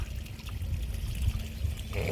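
Muddy water trickling and flowing in from a village drain, a steady low continuous stream close by with no voices.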